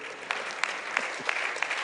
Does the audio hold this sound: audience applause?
yes